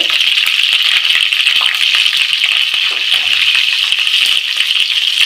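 Cumin and turmeric sizzle in a generous pool of hot oil for fried rice, a loud, dense, continuous frying hiss heard close up without interruption and with no voices.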